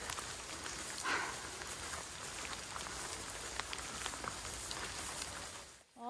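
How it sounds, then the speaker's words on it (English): Rain falling on a waterlogged Appalachian Trail in cold weather, a steady dense patter and hiss running continuously and fairly close, with no talk over it. "Oh, I wish it wasn't raining today."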